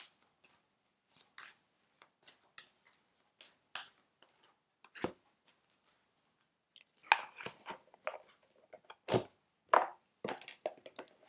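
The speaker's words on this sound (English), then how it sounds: "let's give these a shuffle" Tarot and oracle cards being shuffled by hand close up, with scattered crisp flicks, taps and snaps that grow denser and louder toward the end, with no talking.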